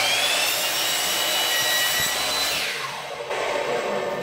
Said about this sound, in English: So we'll go ahead and cut this, keeping my left hand a ways back.